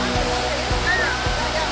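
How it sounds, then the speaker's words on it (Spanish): Río Cuberto, a mountain stream forcing its way beneath a fall of loose rocks, rushes with a steady close watery roar, a few low thuds cutting through. "el río Cuberto, que tuvo que buscar su camino por debajo de un desprendimiento de piedras"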